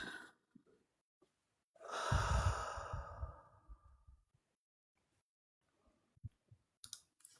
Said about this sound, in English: Go ahead and take one more really big deep breath